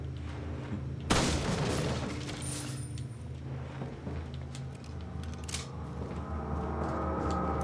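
Gunfire at barrels in the video game Resident Evil 4: a loud sudden burst followed by scattered sharp cracks and debris-like noise amid a steady game background.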